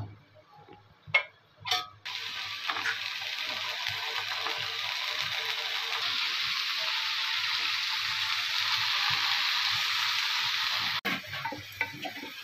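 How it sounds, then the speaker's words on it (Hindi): Potato pieces coated with turmeric powder and salt hit hot oil with a couple of clatters, then a steady, loud sizzle of frying that holds for about ten seconds, close up with faint stirring taps. "अब इसको हम लोग फ्राई करेंगे।"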